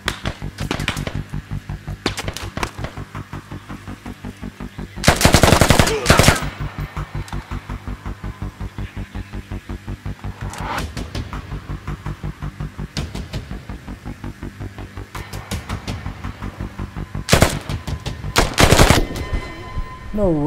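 Rapid automatic gunfire rattles almost nonstop in the video game Squad, with several louder, closer bursts breaking through the continuous chatter.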